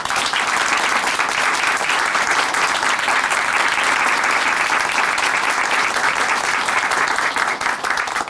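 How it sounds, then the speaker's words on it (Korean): Sustained applause from a large church audience, a dense, even clatter of clapping that carries on steadily from start to finish. "다시 한번 큰 박수 보내드릴게요."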